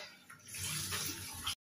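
Running water from a home shower hisses steadily and close for over a second, splashing and spattering, then cuts off abruptly into silence.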